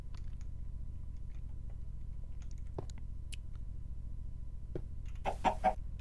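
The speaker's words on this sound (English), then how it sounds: "I now have a pet chicken" A Minecraft pet chicken gives a few soft clucks near the end, short bursts over a quiet low hum, with faint scattered clicks before them.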